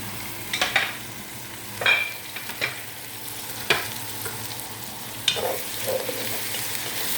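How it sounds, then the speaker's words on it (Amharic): Onions frying in a pan for chicken salona, a steady soft sizzle underneath with several distinct scraping stirs of a spoon against the pan spread out over the stretch, no talking. "ሽንኩርቱን በዚህ መልኩ እየጠበስኩ ያዘጋጀሁትን ቅመም ጨምራለሁ።"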